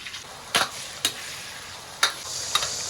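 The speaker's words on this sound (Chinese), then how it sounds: "锅中加入宽油，葱姜蒜爆香" Scallion, ginger and garlic frying in plenty of oil in a wok, giving a faint steady sizzle with a few sharp spatula clicks spread across a few seconds, close and quiet, without speech.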